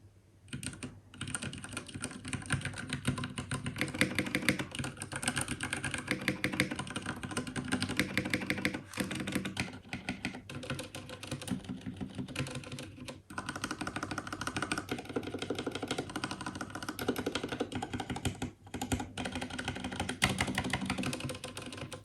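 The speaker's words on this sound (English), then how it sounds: "Now let's do a little bit of sound test of the keys." Someone types steadily on a Ducky Mecha Mini Frozen Llama v2 RGB, a 60 percent mechanical gaming keyboard, making a dense, continuous clatter of close key presses with only brief gaps and no talk.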